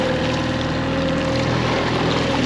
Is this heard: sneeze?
no